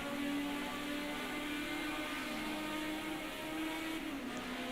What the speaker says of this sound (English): Could just hear that Ford Cosworth engine just moaning